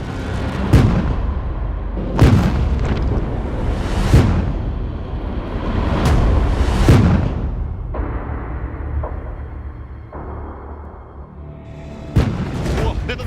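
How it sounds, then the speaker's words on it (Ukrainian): Landmine explosions go off in a farm field during demining with an armored machine. Heavy, close booms land about every two seconds, then a quieter rumbling stretch, and one more sharp blast comes at the end. "Приблизно 10 метрів останні до міни. Зараз буде вибух."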